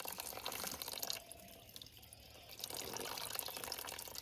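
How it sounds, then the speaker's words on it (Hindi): Water overflowing from a stepwell, a continuous close splashing trickle and dripping flow that eases briefly in the middle before resuming at full strength. "आजकल देखो बावड़ी से कितना पानी ओवरफ्लो हो रहा है।"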